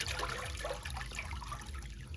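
Water from a farm well pump motor pours into a storage tank, a continuous splashing trickle and gush heard close and fairly loud with no talking.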